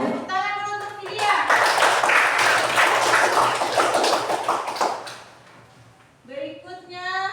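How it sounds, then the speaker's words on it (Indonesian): A classroom audience applauds a student presenter, a burst of dense, close clapping lasting several seconds that fades out, with someone speaking before and after it. "Tepuk tangan dulu untuk Filia."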